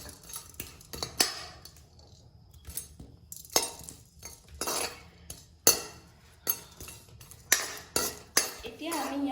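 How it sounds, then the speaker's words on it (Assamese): Whole spices tossed in a hot wok for chicken aloo dum biryani, giving sharp metallic clinks and scrapes of a spatula against the pan in irregular bursts, close and fairly quiet. "গোটা মছলাকেইটা অলপ ভালদৰে এনেকৈ ভাজি ল'ম"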